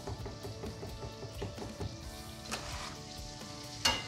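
Onions hiss and crackle in a hot frying pan, a steady sizzle broken by occasional clacks of a utensil and one sharp knock near the end.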